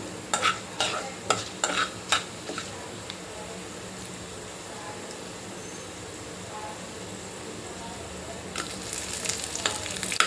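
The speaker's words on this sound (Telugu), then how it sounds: "పోపు గింజలు వేయించిన తర్వాత" Tempering seeds with cumin fry and crackle in a pan, with a few sharp stirring scrapes early and again near the end over a soft, steady sizzle; faint.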